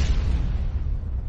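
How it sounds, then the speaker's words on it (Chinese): Dull, muffled booms in an audiobook sound effect rumble low and heavy, a close blast that slowly fades over about a second with no voices. "轰隆几声闷响"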